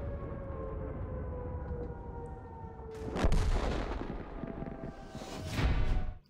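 Tank guns fire in World of Tanks, two loud booming shots about three seconds apart, each with a roaring rumble and tail, over a steady engine drone and high tonal hum, no talk.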